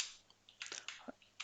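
Light clicking of typing on a computer keyboard, a quick irregular run of soft keystrokes heard close and alone at low level.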